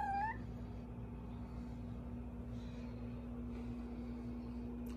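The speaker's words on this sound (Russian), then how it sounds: "Самый разговорчивый кот, который у меня был, разговаривает постоянно." A very talkative cat gives one short meow right at the start, over a steady low hum and background noise, then goes quiet.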